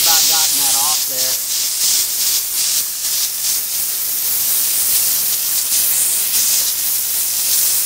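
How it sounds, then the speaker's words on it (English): A steam cleaner running on plain water blasts very hot steam onto a stove top. Loud, continuous pulsing hiss fills the whole stretch, with a brief warbling tone near the start. "This steam's coming out extremely hot."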